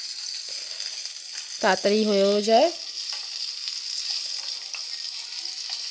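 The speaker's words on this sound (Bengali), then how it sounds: "আলুগুলো একটু ভেজে নেব" Potatoes frying in hot oil in a wok, a steady bright sizzle running throughout, with a voice speaking briefly over it in the middle.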